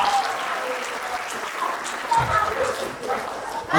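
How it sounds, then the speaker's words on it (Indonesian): An audience clapping at a student meet-and-greet for the Gala Siswa Indonesia 2025 training center; moderate, uneven applause runs under scattered voices and background chatter. "tepuk tangan dong"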